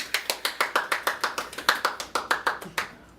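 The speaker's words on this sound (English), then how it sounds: "Cue the applause." A small group claps steadily in a studio, a sparse run of distinct, evenly spaced hand claps close by, with no talking.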